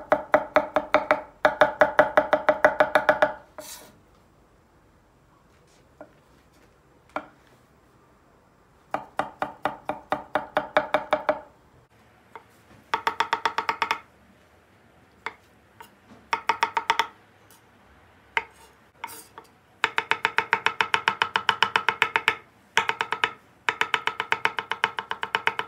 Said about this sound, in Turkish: Sap kısımlarını biraz ince doğrayalım.